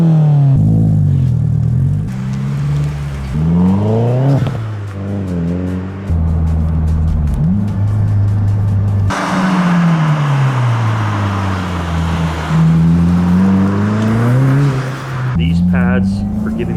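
A Subaru WRX VB with STI brakes driven hard on a road, its engine loud and close as it revs up and falls through repeated accelerations and gear changes, with a rushing roar throughout.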